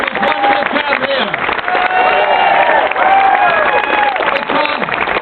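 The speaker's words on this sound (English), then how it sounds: "a clap for this wonderful crowd here." Loud, sustained clapping from a big crowd at a political campaign rally, with cheering and scattered shouts running through the steady wash of applause.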